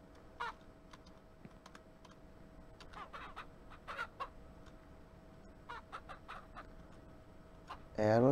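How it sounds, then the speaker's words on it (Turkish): Chickens in the Ranch Simulator video game make scattered short clucks at moderate loudness over a steady ambient hum, with a louder burst near the end. "civciv var lan orada. Duydum sesini."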